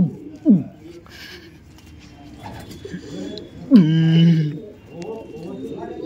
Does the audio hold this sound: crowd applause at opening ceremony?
no